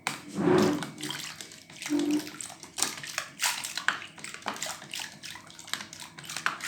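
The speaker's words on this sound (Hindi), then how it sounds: "तो मैं इसमें 2 गिलास पानी डाल रही हूँ।" Water is poured from glasses into mashed bael fruit pulp for a drink, giving splashing, gurgling bursts with sloshing and a few clinks, close by and fairly quiet, with no talking.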